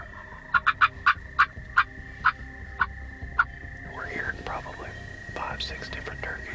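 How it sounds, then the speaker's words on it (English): A run of roughly ten rhythmic gobbles from wild turkeys rings out fairly close over a morning pasture in turkey season, then fades as hushed whispering takes over. "36 different turkeys all around us. These are the closest ones."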